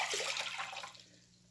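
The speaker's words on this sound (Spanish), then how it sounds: "En una ollita vamos a poner nuestras 2 tazas de agua" Two cups of water are poured into a small pot in the kitchen, a brief close splashing rush that fades out quickly.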